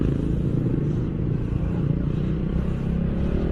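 An RFI 150 motorcycle on a test ride after a coolant refresh, its engine droning steadily and fairly loud throughout, with a constant low rumble and no voices.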